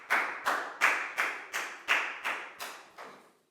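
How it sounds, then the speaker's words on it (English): A primary school class claps in unison for a student during a maths lesson, about eight sharp, evenly spaced group claps in a steady rhythm, close and clear, with no talk over them. "High five and a big round of applause for Down, please, guys."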